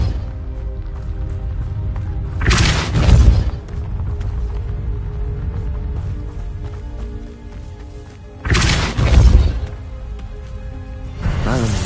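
Two heavy magical blasts from the Depulso spell in Hogwarts Legacy, each a short booming burst several seconds apart, loud over a steady ambient game background with a low rumbling bed.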